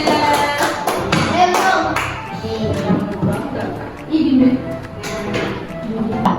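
A classroom of students claps for a classmate, giving a burst of uneven, close hand claps and taps mixed with overlapping voices.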